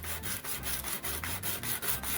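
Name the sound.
sanding a wooden bass guitar body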